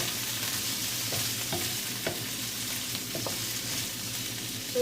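Seafood with squid is stir-fried in a hot pan: a constant close sizzle with a handful of scraping, clinking stir strokes spaced across it, fairly quiet and with no talking.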